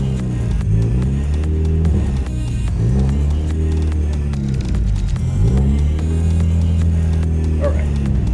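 Turbocharged Chevy Cruze engine running steadily as it warms up to temperature, a loud, continuous close-up drone whose pitch rises and falls slightly throughout, with no talking.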